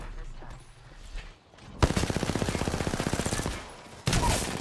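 A sustained burst of rapid automatic gunfire from the video game Apex Legends rattles in a steady stream of evenly spaced shots for about two seconds, followed by a louder, sharper blast, with quieter game sounds before it.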